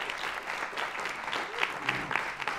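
Concert audience applauding steadily, a dense wash of clapping from a full hall that holds a fairly even level throughout with a few sharper claps standing out.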